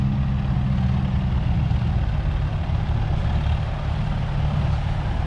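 A Farmall M tractor at a thresherman show runs with a steady, low, rumbling engine note, continuous and fairly close, with no talk over it.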